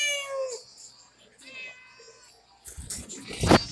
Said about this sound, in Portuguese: É meu gato aqui que tá miando.